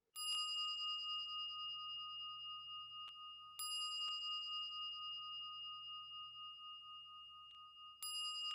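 A clear bell rings out three separate times, each strike a bright, sustained metallic tone that hangs and slowly fades in an otherwise quiet space, with faint lighter taps between strikes.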